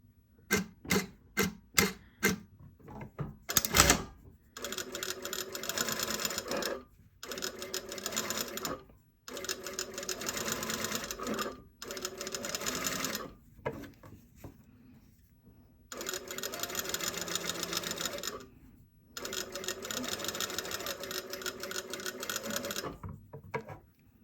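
A sewing machine understitching bias tape to seam allowances, a few quick stitches at first, then long runs of rapid, close whirring stitching broken by short pauses, no talking.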